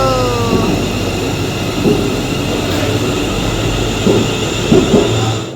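A ScotRail train pulls away from a station, a steady rumbling drone with rising tonal whine and occasional clanks and wheel thumps, fairly close and continuous with no talking.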